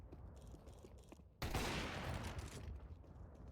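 Gunfire in Counter-Strike erupts as a sudden dense burst of rapid shots that holds loud for about two seconds before easing, after quieter game ambience.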